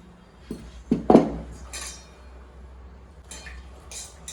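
Cut pieces of ivy gourd are dropped into a pan on the stove, giving a few close, brief clinks and clatters of metal and utensil against the pan, followed by quieter scraping.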